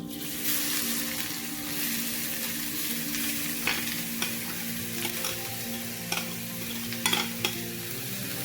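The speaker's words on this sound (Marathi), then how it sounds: "आता आपण याच्यात एक किसलेले गाजर टाकून घेऊया" Grated carrot fries in hot ghee for carrot halwa, a steady close sizzle with scraping clicks from stirring that grow sharper toward the end.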